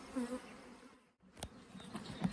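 A honey bee swarm hums with a close, continuous buzzing drone, broken by a brief dip and a few handling knocks while the insects keep humming.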